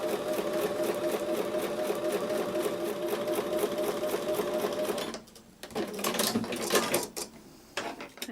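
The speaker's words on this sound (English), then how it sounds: "when I take these to the sewing machine, I'm going to sew on top of the drawn line." A sewing machine stitches in a fast, even mechanical rhythm for about five seconds, then stops, followed by fabric handling and light clicks.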